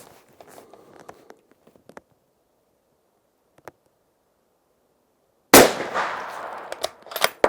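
A single loud, sharp Sauer 505 Ergolux rifle shot cracks close by and rings out in a decaying tail, preceded by scattered faint clicks and handling noises and followed by a few more small knocks.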